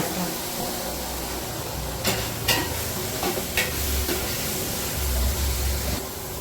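Chicken curry with mint sizzles and fries in a pan while being stirred, a steady close hiss with periodic scraping and clinking of the spoon against the pan.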